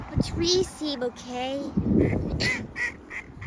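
Greylag geese by a reservoir give a few short honking quacks in quick succession, close by, mixed with a person talking briefly.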